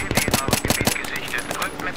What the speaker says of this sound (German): Einfach mal in die Luft schießen, einfach mal das können.